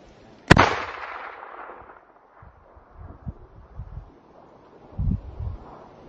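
A single sharp, loud .308 Win rifle shot from a Monza rifle, fired at a 725-metre target, cracks once and trails off in a long fading rumble, followed by soft low thumps and wind.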